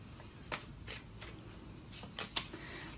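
Tarot cards shuffled and drawn during a Leo reading: a few soft, quiet riffling bursts and papery slaps spaced apart over low background hum, with no talking.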